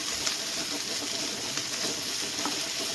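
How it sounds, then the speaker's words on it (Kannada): Cashews and four to five green chillies fry in oil for an egg curry, a steady, close sizzle with faint crackles throughout. "ಇದಿಷ್ಟನ್ನು ಚೆನ್ನಾಗಿ ಫ್ರೈ ಮಾಡ್ಕೊಳ್ಳೋಣ"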